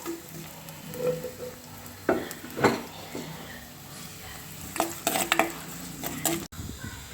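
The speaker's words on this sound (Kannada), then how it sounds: "ಎಣ್ಣೆ ಕಾದಿದೆ, ಇದಕ್ಕೆ ಇವಾಗ ಈರುಳ್ಳಿ ಹಾಕ್ಕೊಂಡು ಫ್ರೈ ಮಾಡ್ಕೊಳ್ಳೋಣ" Chopped medium onion sizzles steadily in hot oil in a pan for a Mangalorean chicken pulimunchi, with a constant frying hiss broken by a few clinks and stirring scrapes.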